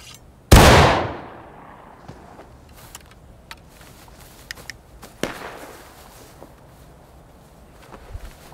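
One loud, close musket shot cracks out in War of Rights skirmish training, with a reverberant tail decaying over roughly half a second, then scattered faint clicks and a distant second report.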